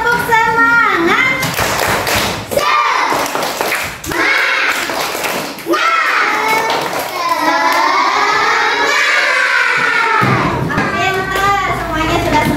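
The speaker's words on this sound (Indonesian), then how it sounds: "kita tepuk semangat dulu. Tepuk semangat." A classroom of children performs the 'tepuk semangat' clapping chant, with rhythmic hand claps and group chanting voices mixed with a teacher's speech, loud and close throughout, with brief pauses between phrases.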